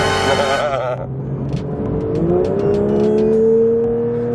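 A Porsche 992 GT3 accelerates with a rising engine note that climbs steadily after a brief tonal whine at the start, loud and close from inside the car.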